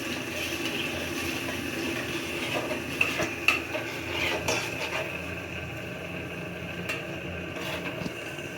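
Spice paste for a country chicken curry being stirred in a cooking pot, with a continuous low sizzle under repeated scraping and clinking of a spoon against metal, a few sharper knocks midway, no speech.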